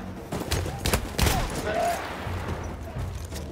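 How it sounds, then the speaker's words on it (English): Battlefield 1 campaign gunfire comes as a rapid burst of shots, dense in the first half and tapering off, fairly quiet and mixed with game ambience. "I was gonna shoot mortars at the enemies, but now I'm being shot at"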